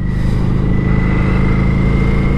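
Kawasaki Vulcan 900 Classic cruiser motorcycle engine running steadily while riding, a continuous loud mid-range drone with a low rumble and wind noise and no clear revving changes.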